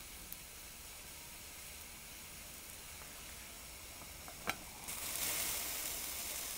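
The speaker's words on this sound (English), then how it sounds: "Alright, we got a rapid boil." A pot of water at a rapid boil on a Woodgaz TLUD wood gas stove, a steady hissing bubble with a single sharp click midway, the hiss swelling louder toward the end.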